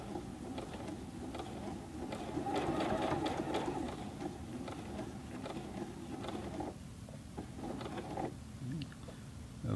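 A Juki G210 sewing machine stitches a denim jeans leg hem, a steady mechanical whir that swells louder mid-way and then eases into lighter, intermittent stitching with brief pauses near the end.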